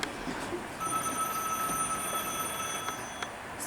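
A telephone bell rings on stage during an amateur comedy play performance in Syktyvkar, a steady electronic ring with sustained tones over a room-noise background.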